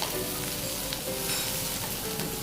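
Shrimp heads and shells sizzle in a pan while a shrimp broth cooks, a close, steady crackling fry with occasional sharper pops and a stirring scrape, no voices.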